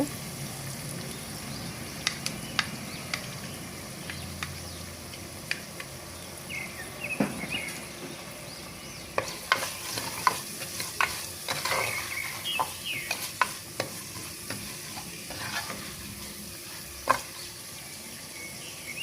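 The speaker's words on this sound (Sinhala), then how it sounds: "කරපිංචා ටික අර කුඩාවට කපාගත්ත බීලුණු ටිකක් දාලා කලවම් කරගන්න මේක" Curry leaves and finely chopped onions stirred in a frying pan for a party snack, with soft scraping strokes and a faint sizzle that comes in scattered clicks and taps, busier in the second half, under a steady low background hiss.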